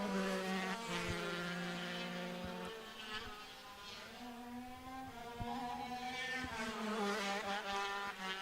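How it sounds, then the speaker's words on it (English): Supercart racing kart engines at Nutts Corner circuit during the Irish Kart Grand Prix final, a crisp high-revving buzz that shifts pitch as karts scream past close by, with engine notes rising and falling over several seconds. "Even as it flies past us, the sound of Brian Jones's engine just so crisp, just at a level above."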